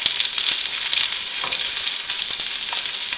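Thin-sliced onions sizzling and frying in a pan, a bright, steady crackle with occasional stirring scrapes, close and fairly quiet, no voices.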